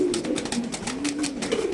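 Lahori pigeons coo close by in a breeding loft, a low, rolling, repeated cooing with pulsing rhythm that fills the short moment.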